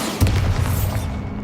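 Bombarda explosion spell from Hogwarts Legacy: a single deep boom with a heavy low-end thud that rolls on and fades over about a second.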